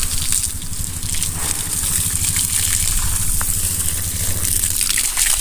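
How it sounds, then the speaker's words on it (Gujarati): Water poured onto rose plants, a steady close gushing splash with an even, unbroken flow throughout and no voices. "આપણે આને પાણી હરખાઈ પાઈ દઈ"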